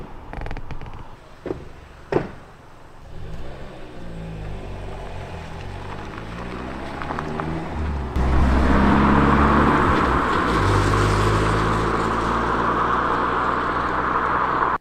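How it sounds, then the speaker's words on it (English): A car engine rumbles low and close at night beside a parked camper van, building into a steady loud drone after a few thumps as it pulls up and idles nearby. "I was just woken up because I heard a car pull up."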